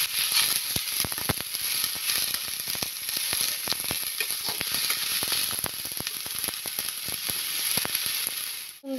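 Spiced tomato frying in a pan with salt, chilli powder and turmeric gives a steady, close sizzle, broken by sharp clicks and scrapes as it is stirred.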